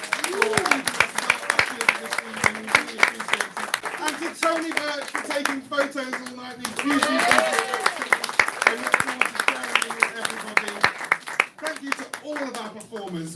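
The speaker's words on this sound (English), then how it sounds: "Huge round of applause for them." Audience applause and clapping at a Watford Dial Up event, steady and moderately loud throughout, with a voice talking over it through much of the clip.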